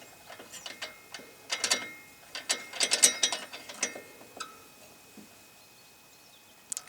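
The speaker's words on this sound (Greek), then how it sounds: "Το βιδώνουμε" A small wick holder being screwed back into a cylinder, giving quick ratcheting metal clicks in several close bursts, fairly faint, with a final isolated click.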